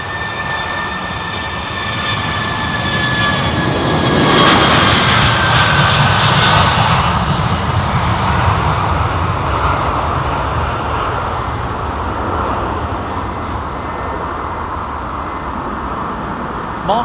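An Airbus A330 airliner comes in to land at London Heathrow, its loud broad engine roar building and swelling as it passes close by, then holding steady with a whining tone on top, no voices.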